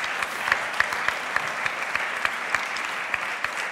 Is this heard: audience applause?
yes